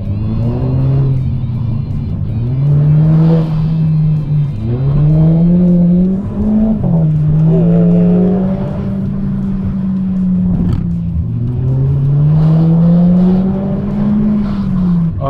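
Skoda Octavia 1.8 Turbo with an aggressive aftermarket exhaust, a deep droning engine note rising and falling in repeated surges of acceleration while driving, loud and close with no talk over it.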